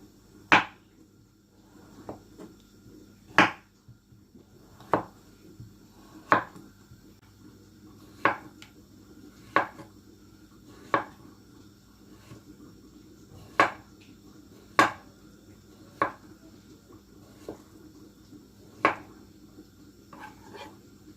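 A knife chops papaya into small pieces on a board, with sharp, isolated cuts spaced a second or two apart in an otherwise quiet room, close by.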